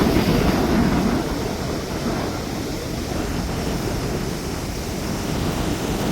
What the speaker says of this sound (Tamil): பாருங்கள் கடல் எவ்வளோ வேகமாக எவ்வளோ பெரிய அலைகள்